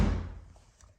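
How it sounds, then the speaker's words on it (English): The door of a 2011 Mercedes shuts with a single solid, deep thunk, close and alone, then fades quickly. "Just take a nice listen to when the door closes."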